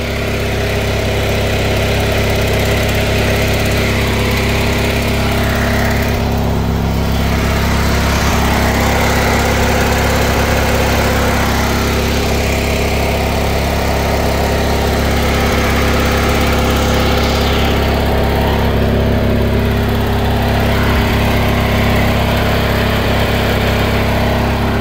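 A 1983 John Deere 116 lawn tractor engine idles steadily with a slight exhaust leak, a loud, close, continuous low rumble with constant vibration throughout and no talk.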